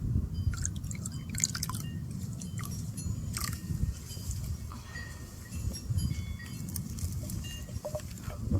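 Water offered during a ritual observance drips in faint, irregular drops and trickles over a soft, low background murmur, with no talking.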